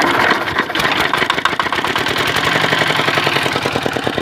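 A Topland Comet engine fires up and settles into a steady, close, chugging run with a rapid, even knocking rhythm; no voices.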